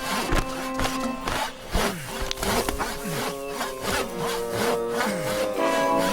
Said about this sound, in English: Mr. James, if you keep sawing like that, you're gonna...